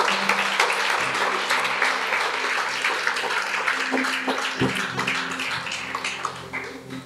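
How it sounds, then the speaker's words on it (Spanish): Church congregation breaking into applause, a dense, sustained burst of clapping that fills the room and gradually thins toward the end. "denle el aplauso al Rey"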